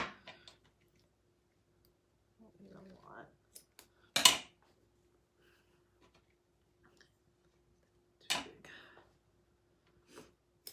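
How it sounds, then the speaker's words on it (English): Scissors cutting twine for a chalk craft project, heard as a couple of sharp close snips among quiet handling clicks, with a soft voice briefly in between. "I'm going to cut my twine first"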